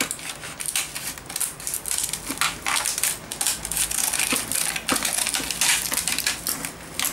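Scissors cut through dried sand-castle craft material for a table centerpiece, giving a crisp series of close crunching and snipping bursts, irregular and fairly loud, with no voice.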